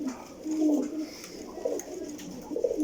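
Pigeons cooing close by in repeated soft throaty phrases, several calls overlapping in a loft of breeder pigeons, with faint background noise.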